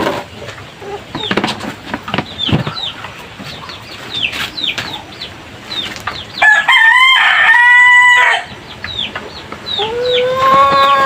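Three-month-old backyard chicks cluck and peep busily while feeding, close and lively, with a rooster-like crow rising briefly in the middle.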